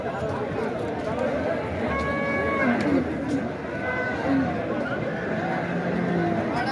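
Cattle at a livestock market where Nepali Gir cows and bulls are traded, with a cow lowing in a couple of drawn-out moos over a busy crowd murmur and people talking nearby.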